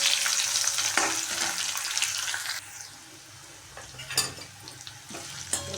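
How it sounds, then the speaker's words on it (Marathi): Onion goes into a pan of golden fried garlic, setting off a loud, close sizzle and stirring that later drops to a quieter fry broken by a few sharp clatters. "लसूण छान तळला आहे गोल्डन कलर आला आहे लसणाला आता यात कांदा टाकून घ्यायचा आहे"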